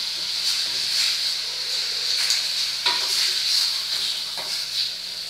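Chopped, washed chicken breast sizzles steadily in a hot pan, with a continuous bright hiss and occasional scraping stirs, close and fairly loud, no talking.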